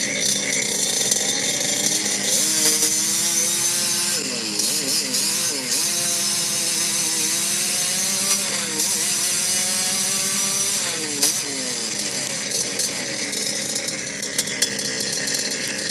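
A chainsaw engine warms up and revs, holding a loud, steady mechanical drone with rising and falling pitch as the throttle is worked, close by and dominating throughout.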